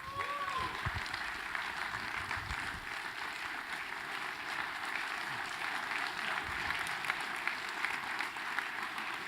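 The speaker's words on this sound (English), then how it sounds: "give a big round of applause for the big piece" A standing audience at a sports tech and sports betting conference panel claps steadily, a continuous crowd of hands held at an even level from start to finish, with a brief voice at the very beginning.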